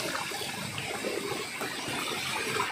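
Water flows steadily outdoors in the Bohol countryside, a close, continuous gushing wash with no voices over it.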